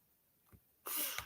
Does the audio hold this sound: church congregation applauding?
no